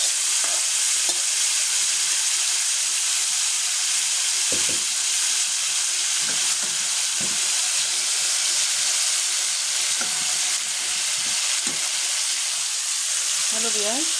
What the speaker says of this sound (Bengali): আবার চুলাটা অন করে মাংসটা দিয়ে দিচ্ছি